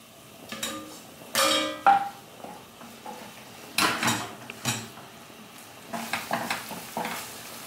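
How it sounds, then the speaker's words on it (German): Pasta being stirred in a pot while cooking spicy rigatoni, giving intermittent scraping and clinking bursts of spoon against the pot over a faint sizzle, close and moderately loud, with no talking. "Gleichzeitig immer die Nudeln umrühren."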